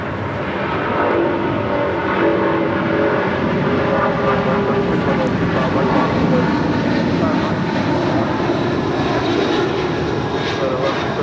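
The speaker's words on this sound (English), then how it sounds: "This is United Airlines 1170 departing to Honolulu on a 777-200" A United Airlines Boeing 777-200 takes off from LAX bound for Honolulu, a loud, steady roar of jet engines that stays close and powerful throughout, with a voice faintly underneath.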